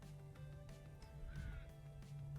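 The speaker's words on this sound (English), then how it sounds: "Got the crows heading home." Crows cawing at a quiet campsite at sunrise, several short harsh caws spaced across a couple of seconds, moderately distant over steady low background hum.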